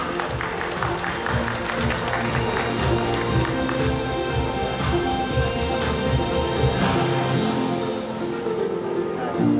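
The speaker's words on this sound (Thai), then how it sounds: "ขอเสียงปรบมือนะคะต้อนรับทุกท่านบนเวทีด้วย" Audience clapping welcomes guests onto the stage at the opening ceremony of a Thai Watsadu home-improvement store branch in Sisaket, Thailand. The steady, dense applause continues throughout over a background of music and crowd sounds.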